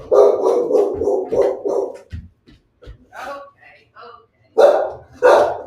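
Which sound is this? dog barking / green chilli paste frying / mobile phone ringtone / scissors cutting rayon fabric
dog barking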